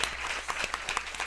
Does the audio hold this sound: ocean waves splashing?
no